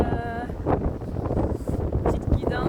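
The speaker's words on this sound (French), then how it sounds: "J'espère que vous m'entendez parce que les vagues sont bruyantes. Le vent aussi." Strong seaside wind buffets the microphone in a steady roar by the ocean, with waves breaking somewhere beneath the gusts and a voice speaking over the noise.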